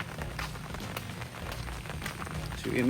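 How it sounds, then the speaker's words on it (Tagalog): Steady rain hisses and patters across a surface at a resort, a dense constant wash of drops, with a louder splashing sound rising at the very end. "Umuulan."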